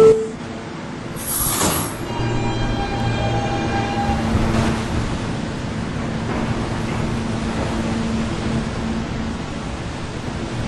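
A New York B subway train near East 72nd Street rumbles steadily along the tracks with a constant roar and rattling, and a brief high squeal near the start.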